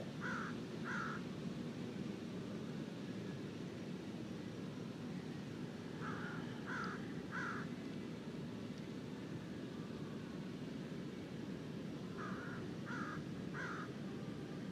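Crows caw in short bursts of two or three calls, repeated at intervals over a steady background hiss, heard from some distance.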